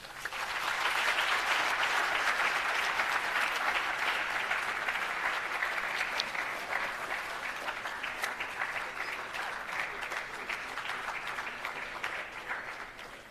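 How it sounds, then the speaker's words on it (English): A large audience at a South African launch event gives a sustained round of applause for a director general, dense and even clapping that slowly tapers. "Let's give another big round of applause for Director General, Dr. Sishi"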